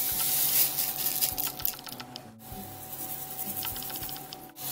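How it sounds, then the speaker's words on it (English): Candy sprinkles in dark and small gold varieties poured into a bowl for a no-bake Thanksgiving treat, a steady patter and rattle of tiny pieces striking the bowl, close and fairly loud, with a brief pause partway through. "So first I'm just going to dump my sprinkles in here."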